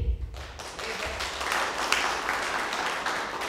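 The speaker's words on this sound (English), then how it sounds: "give a big round of applause for all of us who have been helping out through the last almost 3 years" A church congregation breaks into applause after a brief low thump, with dense, even clapping that holds steady throughout.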